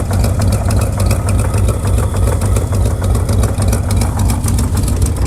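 A Chevrolet square body truck engine idles steadily while warming up, a loud, close, continuous rumble with an even throbbing pulse and no clear change in revs.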